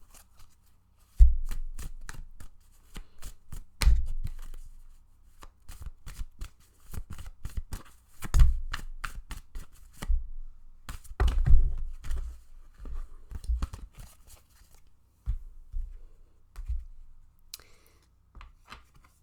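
Tarot cards are shuffled and dealt close by, with irregular soft riffles, slaps and taps of cards on a surface coming in scattered bursts against a quiet background, with no talk.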